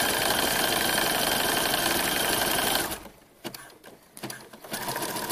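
Sewing machine running a triple step zigzag stitch slowly on high-stretch fabric for a sports bra, a steady rapid mechanical whir for about three seconds that stops abruptly, followed by a few soft handling clicks and rustles.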